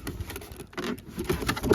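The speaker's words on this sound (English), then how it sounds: "Then you're going to take your jug and cut all the way around." Scissors cut around a plastic milk jug, giving a quick run of irregular, crisp snips and crinkly plastic clicks close to the microphone, with no talking.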